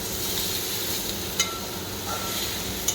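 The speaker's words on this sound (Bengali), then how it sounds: "দেখো সব কিছু মিলে কষাচ্ছি" Ingredients being sautéed and stirred together in a pan, a steady close sizzle with a couple of brief utensil clinks against the pan, no voices.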